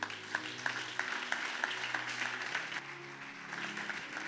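Church congregation applauding after a sermon passage on prayer, a steady wash of clapping with a few sharper claps standing out, moderately distant and continuous.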